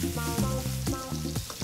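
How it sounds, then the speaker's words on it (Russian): Curry leaves, garlic and chili frying in hot oil, a loud close sizzle with bursts of crackling and stirring, heard alone without talk. "Затем жарим нашу смесь 5 минут."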